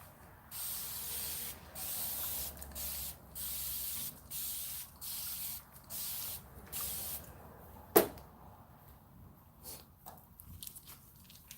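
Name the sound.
spraying water on braided hair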